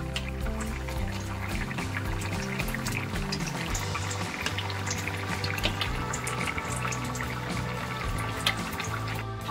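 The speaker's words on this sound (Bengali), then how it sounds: "হালকা করে মাছগুলোকে ঝোলের মধ্যে একটু ভিজিয়ে দিচ্ছি, দিয়ে একটু ফুটতে দেব।" Rohu fish pieces slip into a simmering Bengali potato and fish curry flavoured with ginger-cumin paste, giving soft liquid bubbling and gentle splashes over a constant low kitchen hum, without talking.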